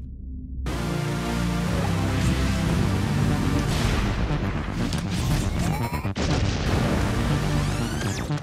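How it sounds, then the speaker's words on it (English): A loud explosion in the video game Narita Boy, a dense, sustained booming roar lasting several seconds, layered with game music and electronic tones and with no talking. "Well, that explosion hurt the fuck out of me."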